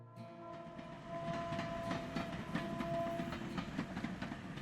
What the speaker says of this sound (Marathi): पुढच्या 15 मिनिटात त्यांची ट्रेन स्टेशनवर येऊन थांबली.